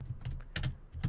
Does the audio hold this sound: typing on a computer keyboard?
yes